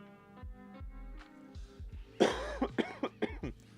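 Several harsh coughs in a quick cluster, close and fairly loud, following a soft low hum.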